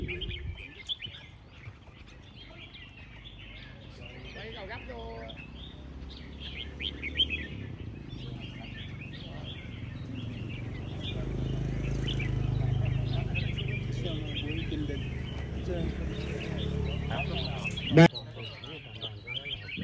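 Caged red-whiskered bulbuls chirp and trill at a songbird contest, with steady overlapping calls over a busy crowd murmur and low background rumble, and a sharp bright note near the end.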